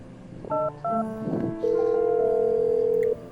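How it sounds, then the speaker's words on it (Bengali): A telephone is dialled to call a doctor: a few short keypad tones come first, followed by one long steady tone, heard up close with no other sound. "আমি এক্ষুনি ডক্টরকে ফোন করছি"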